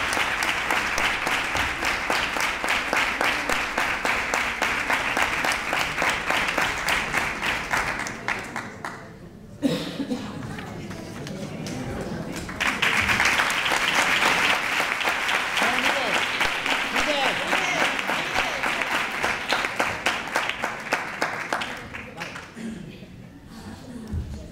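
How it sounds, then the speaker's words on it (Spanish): A festive crowd gives sustained, loud applause at a Three Kings coronation ceremony in Nerva, with dense clapping that briefly drops around the middle before surging again and fading at the end. "Fuerte el aplauso para esta guapísima reina."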